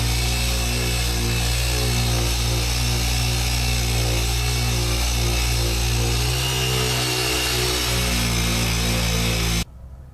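Power tool buffing or sanding scuffing off a Ford F150 fender, a loud, steady high-pitched whine that runs continuously and then cuts off abruptly near the end.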